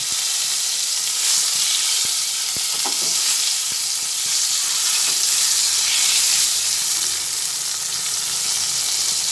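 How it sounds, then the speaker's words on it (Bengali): Tomato, ginger and ground cumin fry in a pan on low heat, giving a loud, steady, close sizzle with a few faint stirring clicks and no talking. "একই সঙ্গে সব ভেজে নিচ্ছি"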